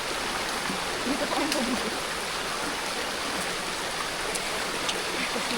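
A river stream near a waterfall on a hiking trail rushes in a constant close wash of water, with a voice briefly speaking over it.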